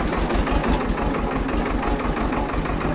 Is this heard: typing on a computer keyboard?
no